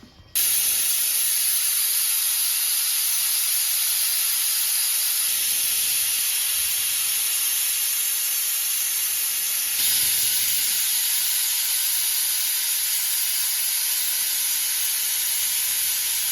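A pressure cooker steaming veg pulao lets out a loud, sustained hissing whistle that runs continuously for the whole stretch, close by and with no talking.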